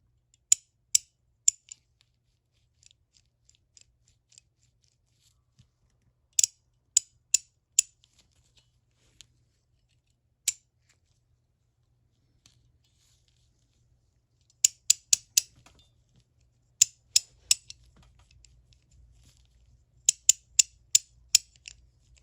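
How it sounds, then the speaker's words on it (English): A Westline 1/2 inch drive ratchet, its mechanism exposed without the retention plate, gives bursts of sharp metallic clicks in quick runs with pauses between, close and alone. "This is how it ratchets."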